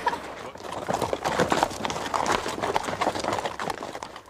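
Horse hooves clip-clop over ground, several horses moving at once with overlapping beats, under a busy outdoor bed of other noise at a Colorado summer camp riding program.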